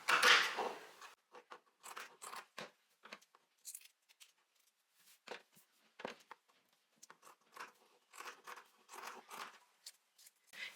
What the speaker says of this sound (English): we're gonna trim a bit of the extra fabric away here, just so it's more or less lining up with the bias tape